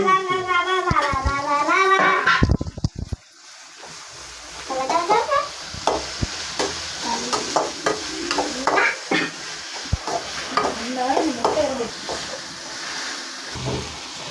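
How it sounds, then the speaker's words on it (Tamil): Chopped onion and green chillies hit hot oil with ginger-garlic paste, giving a steady sizzle with intermittent stirring scrapes and clinks of a utensil against the pan, fairly close. "நம்ம வெட்டி வச்ச வெங்காயமும் பச்சை மிளகாவும் போடுறோம்"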